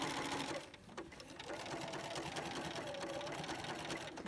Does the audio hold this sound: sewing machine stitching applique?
yes